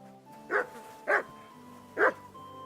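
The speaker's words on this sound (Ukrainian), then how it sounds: "Вітаю, песико." A dog in the medieval video game Kingdom Come: Deliverance II barks three times, short and evenly spaced, over a quiet sustained background hum.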